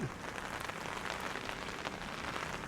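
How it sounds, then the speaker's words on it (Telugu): Steady rain patters down as a continuous hiss with scattered drops, fairly close, and no voices, heard while walking under an umbrella. "ఇప్పుడు మనము వర్షం పడుతుంటే వర్షంలో నడుచుకుంటూ పోతున్నాం"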